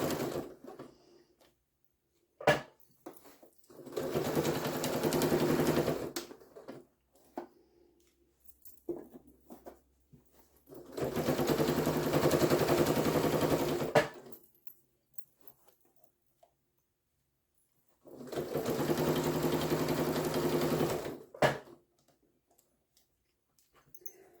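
A sewing machine stitches fabric for a scrappy Easter basket in three separate bursts of a few seconds each, with quiet gaps and small handling clicks between them.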